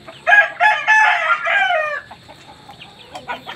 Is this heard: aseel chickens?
yes